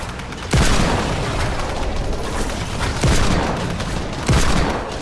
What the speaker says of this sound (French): Alors je vais mettre des balles comme ça.